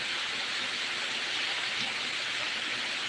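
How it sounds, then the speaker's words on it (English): Steady rain falls outdoors at night in the Philippines, an even, continuous hiss of drops with no breaks and no voices. "It is raining here."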